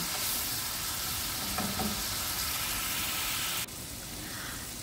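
Green chilies fry in hot oil for a bottle gourd curry, a dense, even hiss of sizzling that drops off abruptly near the end, with no voices.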